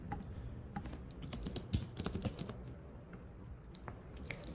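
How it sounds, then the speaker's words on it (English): Keys of a computer keyboard being typed to enter a single word in a vocabulary writing exercise, a quick irregular run of close, soft clicks and taps with brief pauses and no voices. "The writing exercise asks you to type the word manually."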